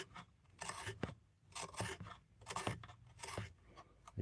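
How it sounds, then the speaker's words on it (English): A knife twisting and carving into the wood of a bowl, a quiet close-up run of short scraping, rasping cuts repeating in an uneven rhythm with no talking. "Just twisting the knife in the wood"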